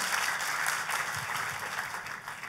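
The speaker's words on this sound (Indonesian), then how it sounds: "Tepuk tangannya yang paling meriah buat Tuhan kita" A large congregation applauding steadily during a church service, a dense wash of clapping that holds at a constant level throughout.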